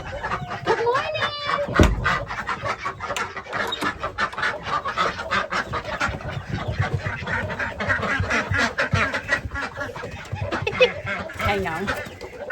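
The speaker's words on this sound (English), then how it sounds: "Let me let the ducks out." Ducks quack loudly and repeatedly in a noisy, overlapping chorus nearby, with a few clucking birds mixed in and someone talking occasionally.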